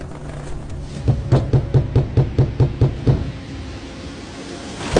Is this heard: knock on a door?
yes